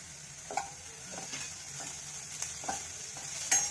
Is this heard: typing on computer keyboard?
no